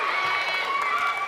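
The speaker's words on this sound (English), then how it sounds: "this Westwood crowd traveling with a big fan base. A boisterous fan base" Volleyball fans of a traveling Westwood crowd fill a high school gym with loud, steady roaring and cheering that runs unbroken through the whole brief moment.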